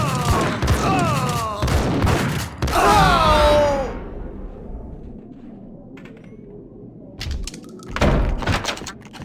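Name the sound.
gunfire in the Max Payne video game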